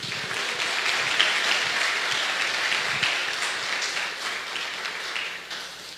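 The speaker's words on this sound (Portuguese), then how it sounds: "aplauda o Senhor e glorifique aí" A church congregation applauds steadily with sustained clapping that fades slightly toward the end.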